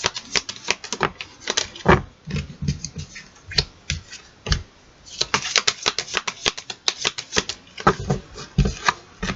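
Oracle cards and Dixit cards are shuffled by hand, a steady run of close, crisp riffling snaps and flicks with a short lull midway, alone with no talk.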